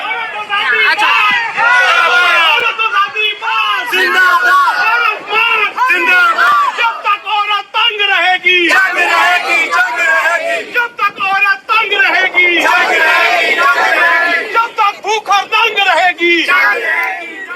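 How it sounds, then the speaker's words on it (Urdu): Protesters at the Aurat March in Islamabad shout slogans together, a loud, dense crowd of voices chanting and yelling in repeated bursts, close and continuous throughout. "کچھ نعرے میں آپ کو سنوا دیتا ہوں"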